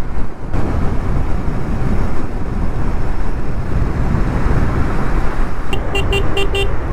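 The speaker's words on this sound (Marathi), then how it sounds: "या रस्त्याला जी गाडी चालवायची मजा येते ना, सुपर्ब आहे, सुपर्ब" A car driving along an open road, a steady loud rumble of engine and tyre noise throughout, with a few short horn toots near the end and no voices.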